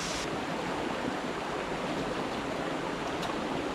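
Water boiling in a pot over a campfire in the woods, a steady, close, dense bubbling rush that holds at an even level throughout with no voices.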